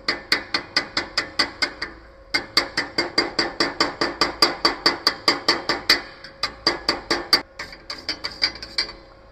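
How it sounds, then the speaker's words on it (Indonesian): A hammer chipping slag off a fresh weld, giving a rapid, steady run of sharp metallic taps, close and loud, with a couple of short pauses before the tapping resumes. "Kemudian kita harus selalu bersihkan terak atau kotoran las selesai dari pengelasan."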